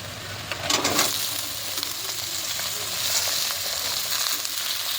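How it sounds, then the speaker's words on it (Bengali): Potatoes fry in hot oil after onions for ghugni, a steady close sizzle with a louder burst near the start as they go in, followed by occasional stirring scrapes. "এবার আলুটাকেও আমি ভাজা ভাজা করে নিই"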